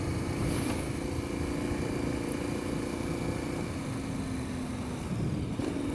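A KTM 1090 Adventure R motorcycle rides off-road, its big twin engine droning steadily and loudly with a constant rumble and wind roar, the revs shifting slightly midway.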